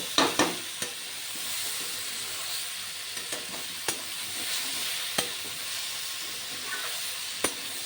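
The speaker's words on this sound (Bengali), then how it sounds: "এবার মশলা ভালো করে কষিয়ে নেব" Spices and spinach frying in a pan for a fish-head palak dish, with a steady soft sizzle and hiss and occasional sharp clicks of a spoon against the pan, close and alone.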